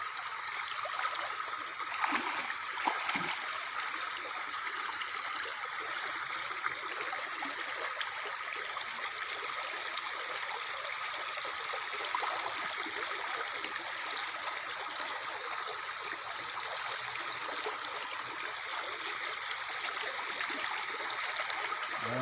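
A river stream runs steadily at a deep river pool where a fish trap was set, a continuous close trickling and rushing wash of water heard alone throughout.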